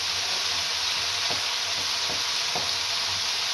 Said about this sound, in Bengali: দিয়ে দেব চিকেনের বোনলেস পিসগুলো ছোট ছোট করে কাটা। এগুলো দিয়ে নেড়ে ছেড়ে নিচ্ছি।